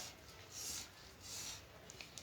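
Quiet rubbing strokes of a marker drawing a line across canvas paper for blouse cutting, a few soft scratchy passes close by with faint ticks at the end.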